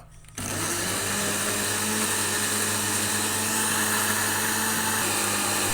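A countertop blender with its lid on whirs loudly and evenly, blending green seafood dipping sauce made with mayonnaise, lime juice and boiled water. The motor kicks in abruptly and holds a constant high drone.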